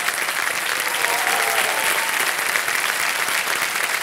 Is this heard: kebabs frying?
no